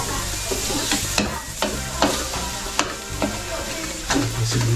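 Onions fry in a pan with a close, steady sizzle, punctuated by repeated scraping and clattering strokes from stirring.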